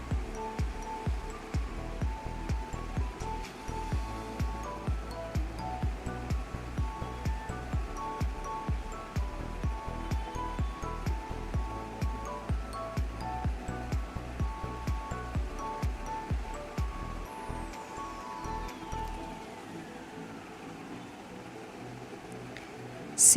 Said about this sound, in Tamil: சிக்கனோட பச்சை வாசனை போகிற வரைக்கும் எண்ணெயிலேயே நல்லா வதக்கிக்கிறேன்